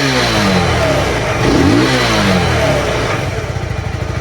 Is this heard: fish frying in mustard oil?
no